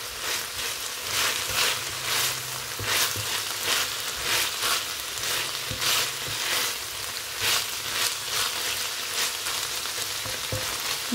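Chicken and bell peppers fry in a pan with a loud, close, continuous sizzle that pulses in short bursts as the pieces are stirred, with no talk.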